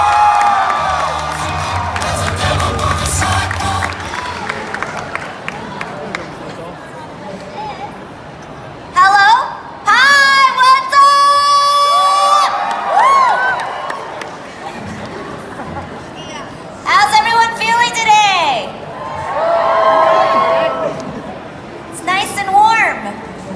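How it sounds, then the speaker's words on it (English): An audience at an Overwatch convention panel at MCM Scotland 2018 cheers and claps loudly at first, then voices speak over lingering chatter and scattered shouts. "Please keep those round of applause going for Charlet Chung!"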